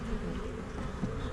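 Bees droning steadily and close during a live hive inspection, a dense continuous buzz with no voices over it.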